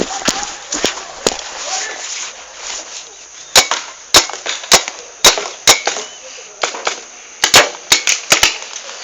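Sharp popping shots from paintball guns fire in scattered bursts, some close and loud, others in quick runs of two or three.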